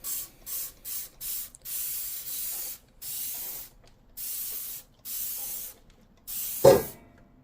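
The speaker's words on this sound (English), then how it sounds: "So let's go ahead and spray this." Repeated short hissing sprays from a Dawn Ultra Platinum Powerwash dish spray bottle, about ten bursts in an uneven rhythm, close and clear with brief pauses between.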